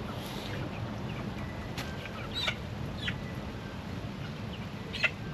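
A backyard chicken clucks in short, faint bursts over a steady low outdoor rumble, a few scattered calls with one sharper call near the end.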